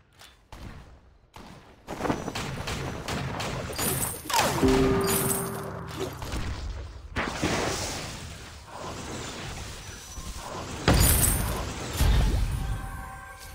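Rapid gunfire from Ringo in the mobile game Vainglory, bursts of shots and whooshing ability effects over busy game sounds, with loud impacts near the end.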